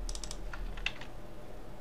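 Keystrokes on a computer keyboard while HTML code is being typed, a handful of quick clicks in a short burst near the start and then a few scattered taps, close and fairly soft.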